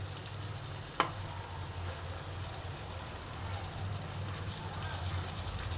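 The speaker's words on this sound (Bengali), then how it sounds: "এবার এটা আমি একটু নেড়ে মিশিয়ে নেব।" Dahi kochu (taro in yogurt) frying in a pan, giving a steady sizzle with a brief sharp scrape of stirring early on, while someone talks over the cooking.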